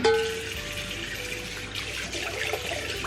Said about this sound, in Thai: อันนี้ก็ล้างหน้าเสร็จแล้วเรียบร้อยนะคะ